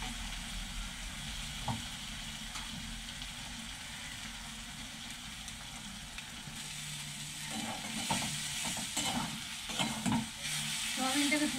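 Grated boiled soybean mince with green chillies is stir-fried in a pan, a continuous moderate sizzle with a low background hum, the stirring scrapes becoming livelier and louder in the later part.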